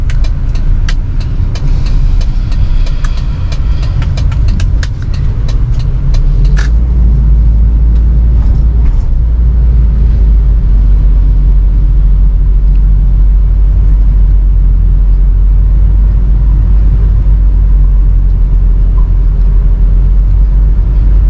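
A Toyota Kijang Krista automatic from the 1990s driving on the road, a steady low engine and road rumble heard from inside the cabin, with some light clicks early on and no talk.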